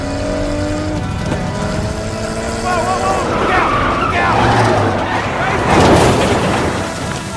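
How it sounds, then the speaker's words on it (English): A car accelerating to overtake on a road, engine noise rising under a film soundtrack with music and effects, fairly loud and continuous throughout. "When they gestured for him to overtake them, the man immediately stepped on the gas."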